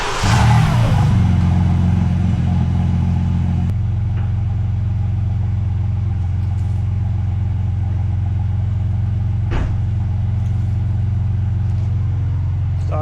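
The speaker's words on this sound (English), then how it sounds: "it's time for a cold start." A stock BMW M3 engine cranks and fires up loudly on a cold start with a brief high rev, exhaust valves open, then settles into a steady, deep, rumbling idle close by.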